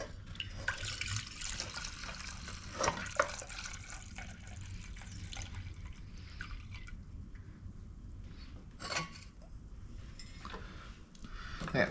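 Old gas drains from a Maytag 72 two-cylinder washing machine engine into a pan, an uneven close trickle and splatter with irregular drips and bursts of flow, no voices.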